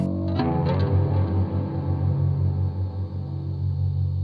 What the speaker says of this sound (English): You can tell there's a lot of reverb and it sounds far away.